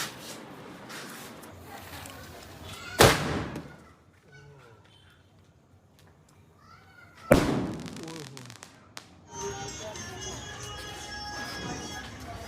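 Two sharp, loud sky shot bangs crack about four seconds apart during a Diwali night, each trailing into crackle and hiss, with voices and background noise filling the gaps between them.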